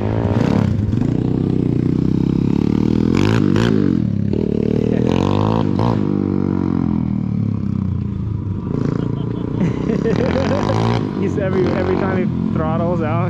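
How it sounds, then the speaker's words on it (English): Pit bike motorcycle engine revving hard on a mountain ride, loud rising and falling throttle blips with rattly exhaust, close by, with people talking over it. "That's why I ride pit bikes."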